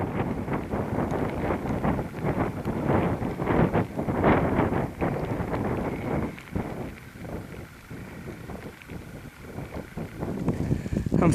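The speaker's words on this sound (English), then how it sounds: "Feels good to be slowly getting out of the wind." Steady wind gusting across open hills, a broad continuous rush buffeting the microphone close up, swelling and easing without pause over several seconds, with no talk.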